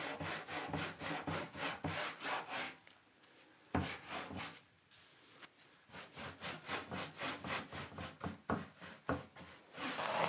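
Clear wax is rubbed by hand onto old 1980s wooden furniture with quick, rhythmic back-and-forth scrubbing strokes, a faint close swishing with one short pause midway.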